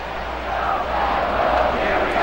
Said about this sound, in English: the crowd is behind him. They want to see him get on base.